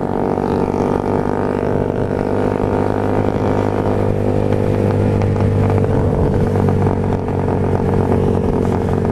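A Suzuki Raider R150 motorcycle accelerates hard, its engine roaring loud and close with a steady, rising drone that carries through the whole stretch without any talking.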